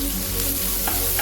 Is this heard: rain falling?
no